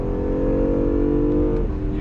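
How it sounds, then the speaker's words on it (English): A 2017 Acura NSX with a hybrid V6 engine on a race track, giving a steady, loud engine drone with strong harmonic tones. It holds for about two seconds and then drops slightly in pitch near the end. "the sound of the car, I mean, still the V6, it's really cool too."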